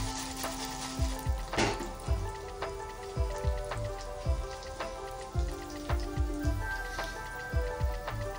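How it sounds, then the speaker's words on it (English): Byadgi chili masala frying for Mangalore-style bajil, a soft steady sizzle with a run of sharp clicking stirs and pops scattered over about eight seconds, close by and with no talking. "Fry it up again."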